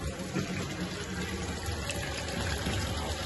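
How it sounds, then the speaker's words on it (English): A bath bomb made with red beet root powder fizzes in a foot spa's water, a steady soft hiss and bubbling under a constant watery rush. "See it fizzing up and coloring the water like pinkish red."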